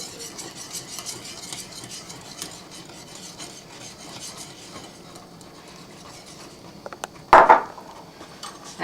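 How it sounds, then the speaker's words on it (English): Choux dough for cream puffs is stirred in a pan until it gathers into a ball, giving a steady soft rasping scrape that ends in a brief louder knock near the end. "I'm going to stir. And keep on stirring it. It's going to form a ball."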